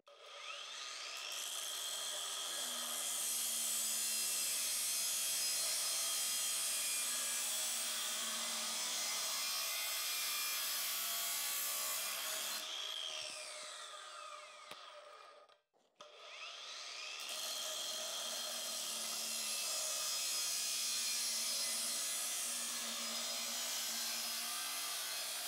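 A Parkside 40V cordless angle grinder cuts through 3 mm steel, a sustained high-pitched whine and screech in two long passes with a brief spin-down and restart in between, close and continuous.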